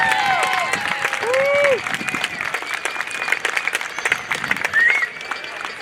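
A large outdoor crowd at the 2022 Dayton Air Show claps and cheers steadily for US Army Golden Knights parachute jumpers landing in the target area, with shrill whistles rising above the applause and a voice faintly underneath.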